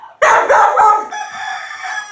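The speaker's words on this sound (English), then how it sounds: "a bunch of chickens." Farm chickens cluck loudly and close by as a rooster crows over them in a short, busy burst of fowl calls.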